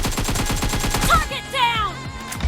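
Rapid automatic gunfire in the mobile shooter PUBG Mobile, a fast, evenly spaced burst of shots up close followed by a game voice line and further scattered effects.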